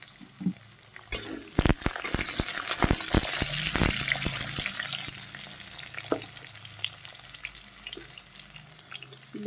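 Potato pieces fry in hot oil in a pan, a crackling sizzle punctuated by sharp clattering stirs and scrapes in the middle, close and fairly loud, with no talking.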